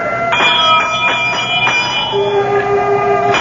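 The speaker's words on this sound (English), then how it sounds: "I reach out and pull the bell." A pulled door bell at a great old door rings out as a radio drama effect, a series of metallic chimes struck in quick succession with a lingering tone fading at the end.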